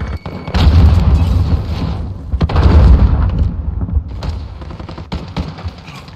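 Heavy gunfire and booming blasts in a hardcore Call of Duty: Modern Warfare match, loud rolling bursts that swell and fade over several seconds, with no talk.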